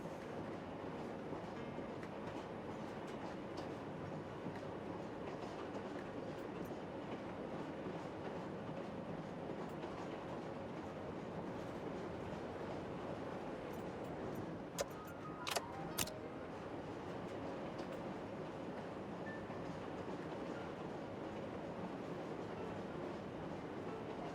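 A train in the railway dispatching game Rail Route rumbles along steadily at a distance, a constant low drone with faint rhythmic clatter and a couple of brief clicks midway.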